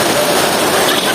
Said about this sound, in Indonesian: Kondisi hujan nah.